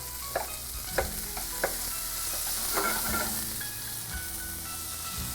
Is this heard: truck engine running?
no